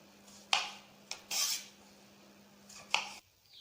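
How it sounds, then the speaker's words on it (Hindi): Knife roughly chopping tomatoes on a board for homemade ketchup, a few sharp separate knocks and scraping cuts spaced irregularly, close and clear against a low steady hum. "इस तरह मैं सारे टमाटरों को काट लेती हूँ,"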